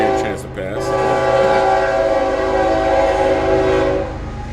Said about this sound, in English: We'll let the train give the train a chance to pass.